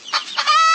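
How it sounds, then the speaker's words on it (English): A hen clucking, a short close burst of two quick clucks rising into a drawn-out cackle, loud and alone. "hen,"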